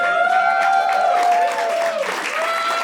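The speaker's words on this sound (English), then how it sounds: "Everybody's cheering." A stand-up comedy audience bursting into applause and cheers, a dense, bright wash of clapping that holds strongly for a few seconds and then eases slightly.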